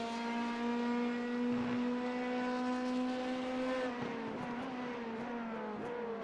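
Le Mans prototype race cars, LMP1 and LMP2, in a video game, a sustained high-pitched engine whine holding steady, then wavering through gear changes near the end, heard alone and fairly quiet.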